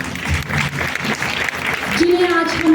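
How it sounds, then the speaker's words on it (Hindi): An audience applauds to welcome Naro Devi onto the stage at the Ahilyabai Holkar Mahila Samman Samaroh in Shimla. Loud, sustained clapping fills the hall, and a voice with a faint tonal sound rises near the end. "मैं मंच पर आपकी तालियों के बीच स्वागत करना चाहूंगी नारो देवी जी का"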